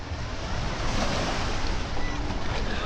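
Sea waves and surf rush continuously around a boat during island hopping off Nha Trang, with steady wind noise on the microphone and no speech.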